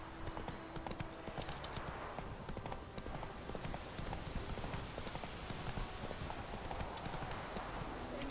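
The horse Roach trots in The Witcher 3, with continuous rhythmic hoof clip-clops over a busy, noisy game background.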